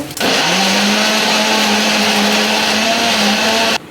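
A mixer grinder whirs loudly as it grinds tomatoes, a steady high-pitched motor drone starting abruptly and running nearly four seconds before cutting off.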